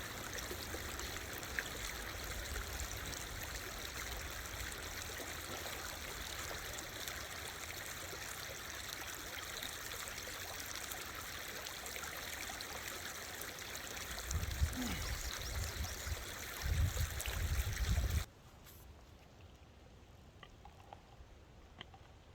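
Stream water trickles and babbles steadily on the Ozark Trail, a continuous close rush with some louder splashing near the end before it cuts to a quieter outdoor background.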